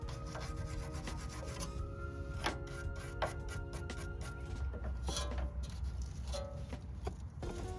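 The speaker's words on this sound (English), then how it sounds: "cleaning these threads at the top with a wire brush" On a 1996–2002 third-generation 4Runner during a brake swap, a wire brush scrubs the rusty threads of a bolt, producing a steady, close rhythmic rasping that runs throughout, quiet and without talk.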